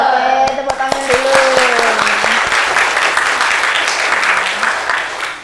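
A school class claps hands together in a classroom, loud and close, with a teacher's voice and an intonation over the first couple of seconds before the clapping continues alone and slowly fades.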